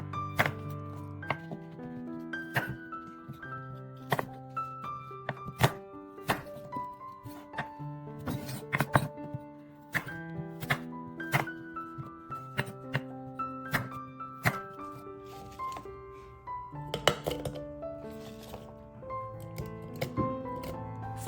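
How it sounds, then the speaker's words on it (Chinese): A knife chops an apple into small pieces on a cutting board, giving a steady series of sharp, close knocks at an uneven rhythm over soft background music, with no talking. "把一个苹果切小块"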